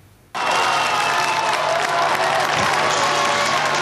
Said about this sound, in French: l'arrivée du Saint-Père a provoqué une véritable effervescence dans la foule